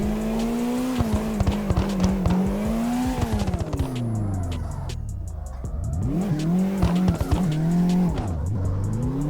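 Nissan 180SX drifting in CarX Drift Racing Online, a continuous loud engine roar rising and falling with revs alongside sustained tire squeal and skidding, no voices over it.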